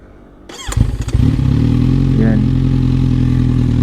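A 2020 Kawasaki Z1000R fitted with an SC Project mid pipe exhaust fires up with a few sharp crackling bursts, then settles into a loud, deep, steady throbbing idle close by.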